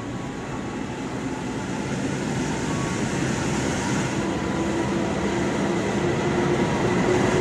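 A service locomotive in festive Eid livery passes through a railway station on a Mudik 2022 travel day, a steady loud rumble and rush of wheels with a faint horn tone and no pause.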